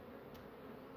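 Honey bees swarm around an opened beehive during a colony inspection, a faint steady buzzing hum in a brief moment with no voices.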